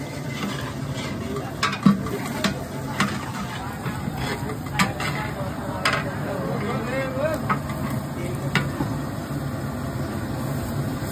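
Garlic goes into a pan of paneer that is already frying, with a steady close sizzle and scraping, clattering stirring throughout, under a person talking.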